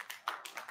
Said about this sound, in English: he's got a couple of people clapping for him there